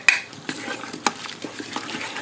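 Chopped garlic stirred with a utensil in a pressure cooker pot for a fresh tomato pasta sauce, giving soft scraping clinks and light sizzling strokes at close range, with a few sharper utensil knocks against the pot.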